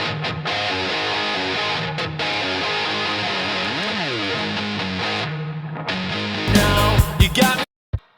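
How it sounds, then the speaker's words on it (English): Beefy distorted electric guitar in a band mix with light EQ, playing a riff with a pitch bend midway, then a burst of loud crashing noise near the end before cutting off. "So the guitar sounds like this."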